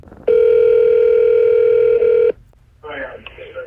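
A telephone sounds one steady electronic tone lasting about two seconds, loud and close, followed by a short silence and then faint voices.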